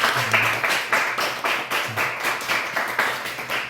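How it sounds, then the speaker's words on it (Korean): A church congregation claps during a Sunday worship service, with the claps pulsing in an even, repeated rhythm at moderate loudness and no voices over it. "아주 예쁘게 잘 섬겨준 우리 에스더 박수 한번 해주시기 바랍니다"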